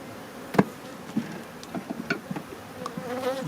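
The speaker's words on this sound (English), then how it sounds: "I'm going to show you what a frame of bees looks like in a hive." Honey bees buzzing on a hive frame, a faint steady hum with scattered sharp ticks and clicks of bees moving and knocking against the frame, close by.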